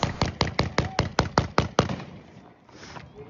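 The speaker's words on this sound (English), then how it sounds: "bursts of gunfire erupt close by, at least 15 shots" A rapid string of about ten sharp gunshots cracks out in quick succession nearby in bursts, then stops, leaving quieter background noise.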